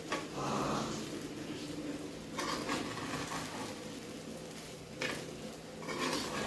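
A spoon stirs fasting-style sabudana khichdi with crushed peanuts and salt in a pan, giving soft scraping swishes in a few bursts, fairly quiet, with a light sizzle underneath.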